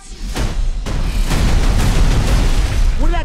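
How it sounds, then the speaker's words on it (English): Explosions from the Borderlands movie trailer: a couple of sharp booms followed by a sustained, roaring blast and rumbling debris, very loud and close. "I said no explosions."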